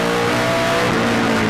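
A Chevrolet race car engine screams at high RPM, around 7,800 to 8,000, heard from on board during a race: a loud, steady, dense roar that holds without a break the whole time.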